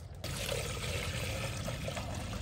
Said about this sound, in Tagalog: Tapos lagyan ng tubig sa loob.